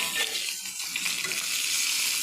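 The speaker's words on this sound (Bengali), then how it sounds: "এবার আমি দুটো কুচনো পেঁয়াজ দিয়ে দিচ্ছি," Chopped onions hitting hot oil in a pan for a Bengali jackfruit kalia, giving a steady, close broadband sizzle with a bit of stirring throughout, no voices.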